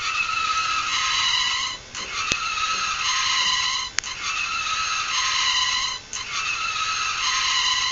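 A small fischertechnik robot vehicle drives on with a steady, high electric motor whine that dips briefly three times, with a couple of sharp clicks, and no talking.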